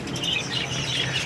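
Caged birds chirp in quick, bright tweets that repeat close by over a light background hiss.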